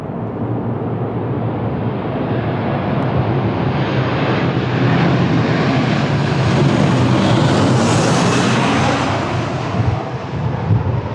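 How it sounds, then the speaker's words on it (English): A C-130 Hercules military transport passes at Lisbon Airport, a loud, broad roar of engines that swells toward the middle and slowly fades, heard alone without voices. "The C-130, the C-130 Hercules."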